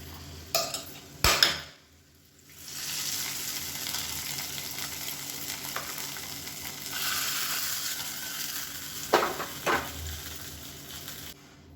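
Varagu (kodo millet) pongal tipped into a hot tempering in a pan and stirred together: a steady close sizzle with scraping spoon strokes and a few sharp metallic clinks of utensil on pan, no voices.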